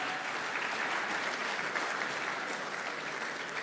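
Sustained audience applause at an Accra gathering of African leaders and health experts, a thick, constant roar of many hands clapping at an even level throughout, with no talk over it.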